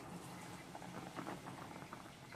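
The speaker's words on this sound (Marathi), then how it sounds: "चला आता याला छान उकळी आलेली आहे" Water for rice-flour modak dough bubbles and pops at a low boil in a pot, a soft steady patter of small bursts close by, with no voices.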